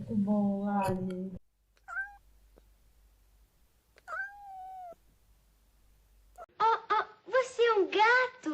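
A cat meows several times, a few drawn-out calls spaced apart, followed by a burst of rapid, higher yowls near the end.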